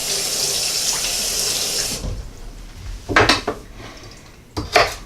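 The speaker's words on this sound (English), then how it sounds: "We can rinse the carrots off." Tap water runs into a kitchen sink for about two seconds while carrots are rinsed, then cuts off, followed by a few close clatters and clinks of dishes and cutlery in the sink.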